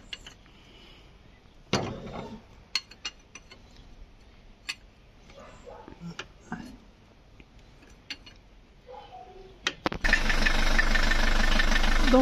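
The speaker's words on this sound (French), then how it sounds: "Après, je vais faire chauffer le moteur pour faire la vidange d'huile." A van engine idles while warming up before an oil change, a steady low running hum with scattered ticks and clanks, then a louder, broadband rush takes over near the end.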